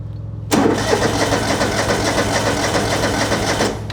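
A small engine on a choke cranks and catches abruptly after a quiet moment, then runs with a loud, fast, buzzing rattle for a few seconds before easing slightly at the end, close by and without talk.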